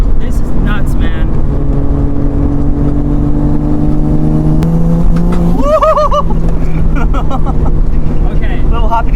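A 1977 Toyota Celica liftback with a swapped 1JZ engine drives at low speed along an unfamiliar road, its steady engine drone running throughout under loud, close, continuous cabin noise.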